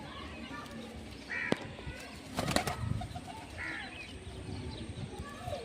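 Pigeon chicks and pigeons call and a brief burst of wing flapping stands out amid soft background chatter, with a couple of sharp bird squawks.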